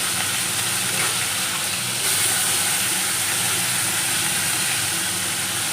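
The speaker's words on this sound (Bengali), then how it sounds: "তো চিংড়ি মাছ ভেজে নিচ্ছি বন্ধুরা" Prawns frying in salted oil in a pan, a loud, steady broadband sizzle and hiss that continues evenly throughout, with no talking.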